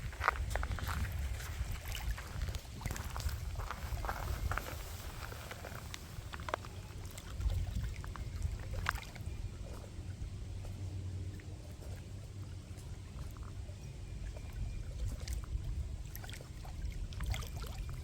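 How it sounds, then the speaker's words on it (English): Lake waves lap against a log along a wooded shoreline, soft irregular splashes and gurgles over a low, quiet background, close and unhurried with no talk. "Just wanted to be able to hear the waves lapping up over that log"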